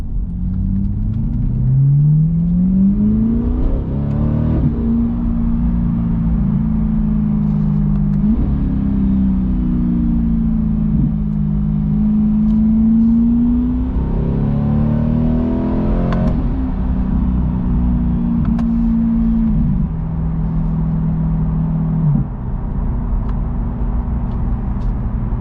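C8 Corvette fitted with a Corsa Xtreme exhaust accelerating through several gear changes, a loud droning engine note that climbs in pitch, drops at each shift and climbs again, steady and close throughout with no talk.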